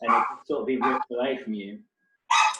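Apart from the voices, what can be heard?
dogs barking in the background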